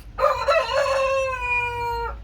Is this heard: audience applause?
no